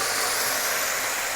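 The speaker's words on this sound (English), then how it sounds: "I'm just throwing a little water in there so the steam helps make the mushrooms soft faster" Water splashed into a hot pan of mushrooms sends up a loud, steady broadband steam hiss that holds evenly for the whole moment, with no talking.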